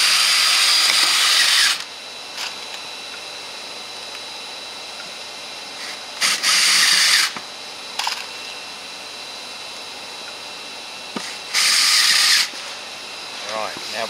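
A power drill drives screws into wooden planks, giving three loud, close whirring bursts separated by quieter gaps with faint handling noise in between.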